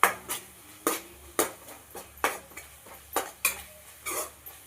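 A spoon scrapes and clinks against a pan as rice is mixed into a tomato mixture, about nine sharp metallic strikes in an uneven rhythm, close and fairly quiet, with no talking.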